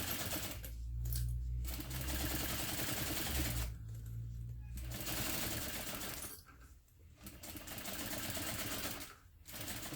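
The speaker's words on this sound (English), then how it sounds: "I'm just going to put this on the longest stitch length and baste that close." A sewing machine basting a seam on its longest stitch length, sewing a bag: rapid mechanical whirring runs in several bursts with short pauses between, close and fairly steady.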